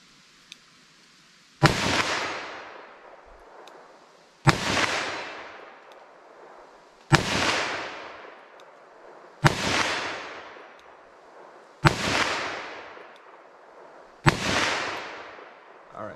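Liberty Overwatch pistol ammunition fired into ballistic gel outdoors: six sharp, loud gunshots at an even pace, about two to three seconds apart, each followed by a long rolling echo that fades before the next.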